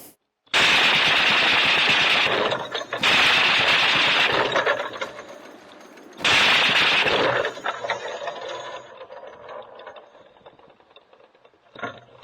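Loud bursts of heavy Browning machine gun fire shooting at Shahed drones in Sumy region, two long sustained volleys with a short break, then fading echoing rumble and a faint distant shot.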